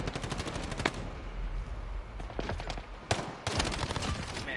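Gunfire in Call of Duty Modern Warfare: bursts of rapid automatic shots with scattered single cracks, some sharp and near, under a busy game soundscape with a player speaking briefly.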